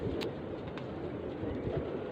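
Pigeons coo softly under a steady blowing background while two birds are handled and inspected, low murmuring calls blending into wind-like noise over a couple of seconds.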